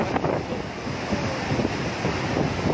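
A steady, heavy rush of water roars continuously as a dam spillway releases about 22,000 cusecs, with wind buffeting the microphone.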